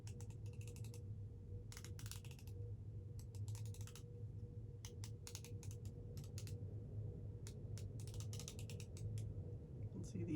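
Small plastic makeup packaging clicks open and shut in quick irregular bursts of sharp taps, near and fairly quiet over a low steady background hum.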